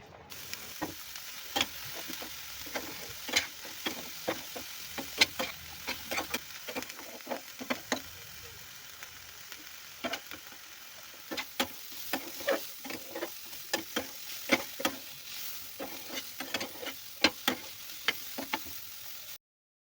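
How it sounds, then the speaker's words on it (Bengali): Chopped vegetables with salt fry together in a pan for Maggi fry, a soft steady sizzle broken by many sharp spatula scrapes and clicks at an irregular rhythm, close but fairly quiet. "লবণটা দিয়ে তারপর আমি সমস্ত সবজিগুলোকে একসঙ্গে ভেজে নেব"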